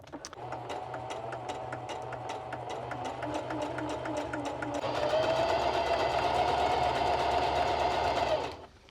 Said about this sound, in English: Grab your sewing machine or your serger and go to town.